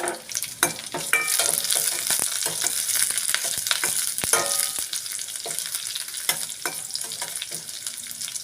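Curry leaves and fenugreek seeds crackle and sizzle in a hot pan, a loud close fry broken by sharp pops and spatula scrapes throughout.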